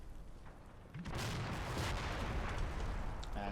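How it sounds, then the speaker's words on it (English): In a Combat Mission wartime game, an anti-tank gun fires at a Panther tank, a heavy boom landing about a second in and followed by a long rumbling battle din with distant thuds. "AT gun starting to ping the front of that Panther"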